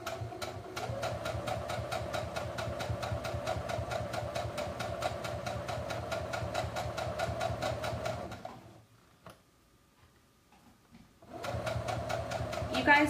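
A quiet domestic sewing machine stitches in a steady rapid rhythm, pauses briefly to near silence, then resumes, close and even in level without talk.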